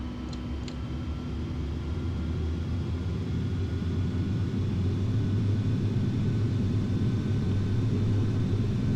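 Airbus A310 jet engines spooling up to takeoff power during the takeoff roll, a steady loud low rumble with a broadband roar that holds constant throughout, no talk.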